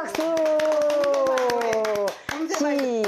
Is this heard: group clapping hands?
yes